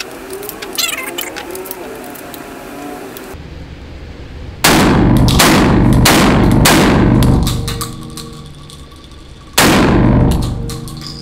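A MAC 1014 shotgun fires five rounds, cycling each shell, with loud, booming blasts that come in a quick burst and then a final shot after a pause, echoing briefly.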